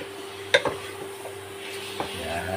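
Ingredients for pansit kanton fry in a smoky pan with a soft, steady sizzle. A utensil strikes the pan with a clear clink near the start and scrapes once more later.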